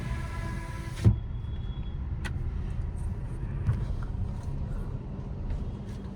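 A Hyundai Aura CNG sedan with about 144,000 km on it drives through traffic. A steady low engine and road rumble runs throughout, with a brief louder thump near the start and faint passing vehicles behind it.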